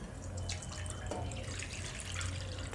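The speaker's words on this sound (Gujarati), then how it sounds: "આમાં આપણે પાણી નાખી દેવું" Tap water runs and splashes into a pan on a gas stove as it is filled for blanching spinach in a home kitchen, a steady close trickle with small drips.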